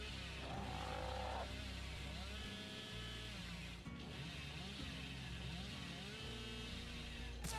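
A chainsaw in the Dead by Daylight video game revs repeatedly, a buzzing engine drone rising and falling in pitch over a busy background of game sounds, with brief pauses between revs.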